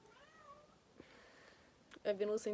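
A cat meows a few times, soft at first and then louder and closer near the end, with faint background noise between calls.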